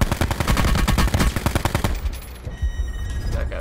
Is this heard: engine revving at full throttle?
no